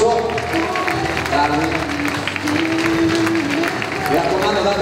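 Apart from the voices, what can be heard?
audience applause at a figure skating show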